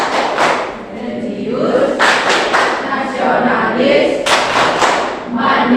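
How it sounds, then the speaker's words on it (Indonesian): A group of school students performs the Pancasila clap chant in a classroom, loud rhythmic claps and thumps in bursts alternating with voices chanting together. "Tepuk pelajar Pancasila."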